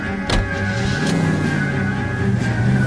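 Car in the video game L.A. Noire, a steady engine hum with a brief clunk near the start and a few small bumps, heard close with no talking.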